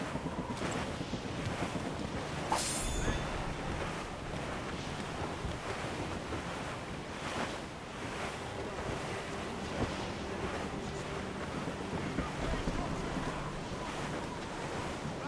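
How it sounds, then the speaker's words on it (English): Fierce wind roars over crashing sea waves aboard a sailing ship in the video game Assassin's Creed Rogue, a continuous loud rush of surf and gusts with occasional creaks and knocks. "Nature doesn't want us out here. She bites with a fierce wind."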